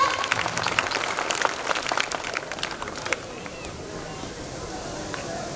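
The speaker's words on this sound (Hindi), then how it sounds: "मैं चाहूंगी जोरदार तालियों के साथ" Applause from an audience at a school opening ceremony, a dense patter of clapping that fades after about three seconds into quieter crowd murmur.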